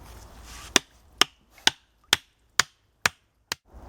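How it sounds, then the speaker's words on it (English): Hammer blows driving stakes into a river point bar ring out as seven sharp, evenly spaced strikes about half a second apart, loud and close, with quiet gaps between them. "First thing you want to do is hammer in some stakes"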